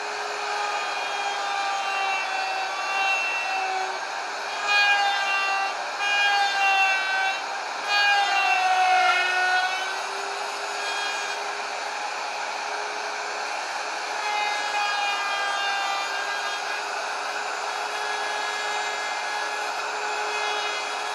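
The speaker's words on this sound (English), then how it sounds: "it has a bearing that will ride on the pattern, and then the bit will cut out the cavity" A router with a bearing-guided pattern bit whines loudly and steadily while cutting a cavity in an acoustic guitar fingerboard, with its pitch wavering and dipping several times under load.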